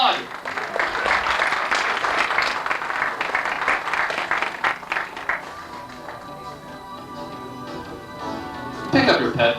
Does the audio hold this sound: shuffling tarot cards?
no